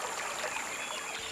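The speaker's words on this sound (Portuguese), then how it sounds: "Nós precisamos sentir o rio, o barulho da água." Steady rushing flow of the Pardo river, a continuous broad hiss of moving water heard close and even throughout, with no voices.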